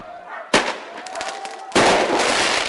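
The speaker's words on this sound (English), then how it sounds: "Bricks, firecrackers and flames filled the night air." Firecrackers going off during a nighttime street riot: two sharp, loud bangs about a second apart, with crackling and rumbling noise between them and after.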